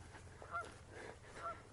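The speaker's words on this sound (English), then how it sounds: "you might just hear some Canada geese calling as well" Canada geese honk faintly in the distance, two short calls about a second apart, beside a long ditch near a seawall.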